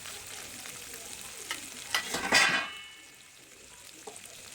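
Chopped tomato and green chilli fry in a pan while being stirred, a soft steady sizzle rising into a louder burst of scraping and crackle in the middle, then settling back to a faint hiss, with no talk.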